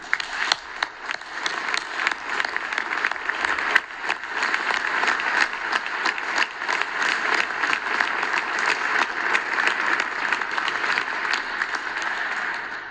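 A banking convention audience gives sustained applause of gratitude, dense clapping from a large hall crowd that holds steady and loud for more than ten seconds without a break.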